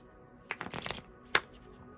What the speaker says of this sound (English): I was just getting ready to like shuffle, and this card flicked all the way out across the floor